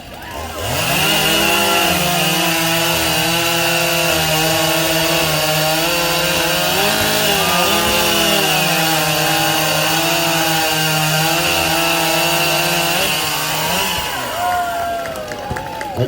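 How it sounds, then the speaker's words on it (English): Stock chainsaws rip through wood in a women's stock saw race at a lumberjack competition, a loud, steady engine whine held for about thirteen seconds before dropping off, with crowd noise underneath. "Let's warm up our stock saws. We got the women's stock saw coming up right now."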